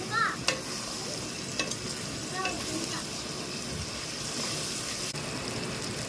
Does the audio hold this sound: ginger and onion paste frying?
yes